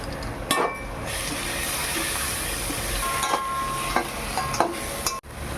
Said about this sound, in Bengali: এগুলো দেওয়া হয়ে গেলে ভালো করে অনেকক্ষণ ধরে কষিয়ে নিতে হবে।